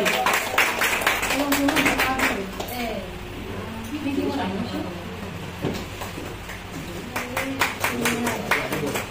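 Audience applause at a prize distribution ceremony at the Sauramita Art Gallery, a steady patter of many hands clapping that swells at the start and again near the end, mixed with a voice speaking over it.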